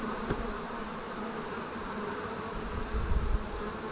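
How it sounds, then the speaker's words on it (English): Honey bees swarm around a hive during a Taranov split, filling the air with a dense, continuous buzz up close, with a few louder passes near the end. "There is bees trying to go into the hive next door"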